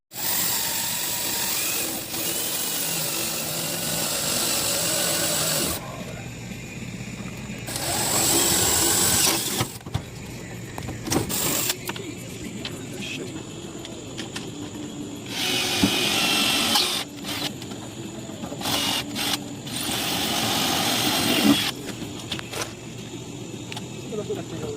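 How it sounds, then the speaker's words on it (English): A power drill pre-drilling holes in metal during an RV tankless water heater install whirs in several bursts of a few seconds each, fairly loud and close, with pauses and some talking between the runs. "he's having to pre-drill every hole because they do not work on metal"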